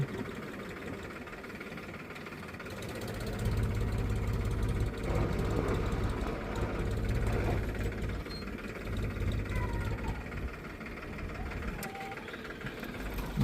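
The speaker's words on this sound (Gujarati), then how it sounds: "ટ્રેક્ટર બી એટલું ફાસ્ટ ચાલી રહ્યું છે" A tractor engine rumbles steadily nearby during potato planting, swelling louder in the middle and settling back to a lower idle-like chug, with faint background sounds.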